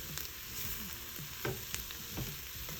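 Flour cooks in a pot for chicken noodle soup and is stirred with soft scraping strokes over a constant low sizzle, with a few sharper clicks of the utensil and no talking.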